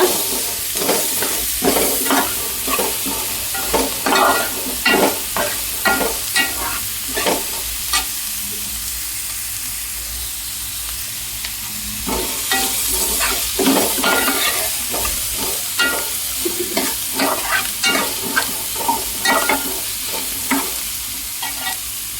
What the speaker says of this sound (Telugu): మునక్కాయ ముక్కలు కాస్త వేగుతూ ఉన్నాయి కదా